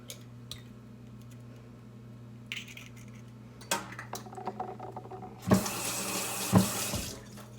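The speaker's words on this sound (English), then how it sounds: "Make sure you wash your hands after touching the egg." A kitchen tap runs for hand washing after handling raw egg, starting with faint drips and clinks, then a loud close gush of water with a couple of knocks against the sink.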